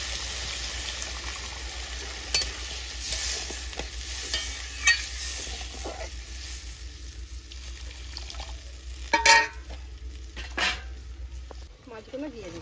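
Mango shol fish curry frying in a pan as water goes in, with a soft sizzle and scraping stirs under steady background hum and a few clinks.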